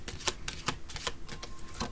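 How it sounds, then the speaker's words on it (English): Tarot cards being shuffled in a deck, a run of soft crisp riffling clicks and slaps, close and fairly quiet, with no talk over it. "we have at the bottom of the deck the Lovers that I'm shuffling again"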